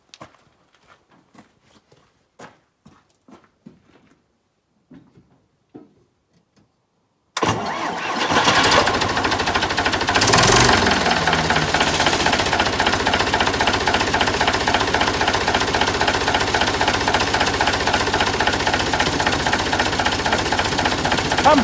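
A snowplow engine with faulty brakes cranks over and fires up after a few quiet knocks, then runs at a loud, steady, rough idle with a brief rising rev near the start.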